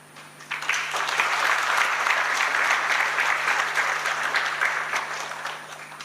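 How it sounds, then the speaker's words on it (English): A forum audience at a UN ITU event on cities and the metaverse in Tanzania bursts into sustained applause that rises quickly, holds as a dense, even roar of hands for several seconds, then eases slightly. "I would like to seek your views and approval with applause"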